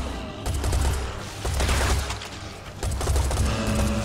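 Rapid, continuous gunfire from Serious Sam 4 fills the whole stretch in dense, loud bursts, with brief dips before the shooting surges again.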